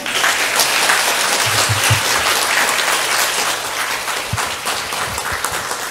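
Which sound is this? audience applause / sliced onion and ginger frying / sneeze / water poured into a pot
audience applause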